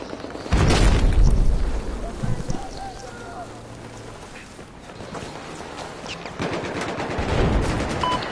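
Battlefield 4 multiplayer combat: bursts of machine gun fire and heavy booms ring out amid ongoing battle noise, loud at first, then easing before flaring again.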